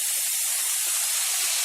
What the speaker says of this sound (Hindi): घी में हम इसमें धीरे से शुगर सिरप डाल देते हैं